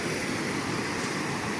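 Swollen mountain stream in Azad Kashmir, floodwater roaring in a dense, unbroken rush, loud and steady throughout.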